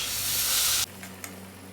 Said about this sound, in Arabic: ننزل بالمية ونسمع أحلى تش.